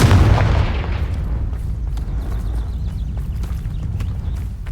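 A Confringo blasting spell erupts in Hogwarts Legacy with a heavy booming explosion at the start that rumbles and decays, followed by a low rumble and scattered clattering debris.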